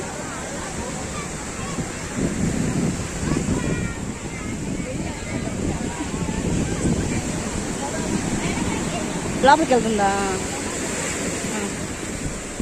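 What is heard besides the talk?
sea waves at fishing harbour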